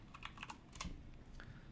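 Fingers tap numbers into a calculator keypad in a few quick, light clicks, close and quiet, with no talking.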